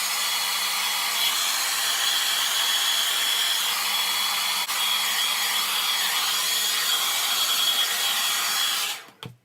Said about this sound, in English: I'm going to blast my hair dry first